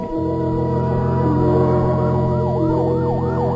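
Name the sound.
fire engine siren screaming at night, radio drama effect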